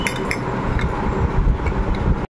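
Small washed metal dessert spoons clinking lightly against one another and against dishes, several quick bright taps spread over a couple of seconds, close and fairly soft, with no talking.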